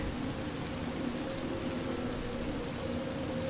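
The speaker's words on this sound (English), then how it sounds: "It's raining in my house." Steady rain falling inside a house in the video game Batman Arkham Asylum, a constant dense patter with a low hum beneath it, even and unbroken throughout with no talking.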